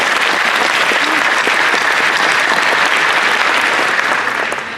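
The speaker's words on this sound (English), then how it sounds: "give them another round of applause" Sustained applause from a crowd at an event center grand opening, dense and steady clapping throughout, tapering slightly at the very end.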